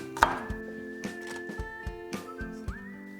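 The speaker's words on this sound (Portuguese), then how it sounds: "vou partir também os alhos" Garlic cloves being sliced with a knife on a board in a home kitchen, a series of crisp, evenly spaced close taps over a steady background whistle.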